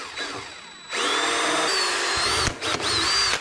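A power drill bores holes for a Mach 1 chin spoiler being fitted to a 1998 Mustang GT, a steady loud whine running for over two seconds with a brief stop and restart near the end.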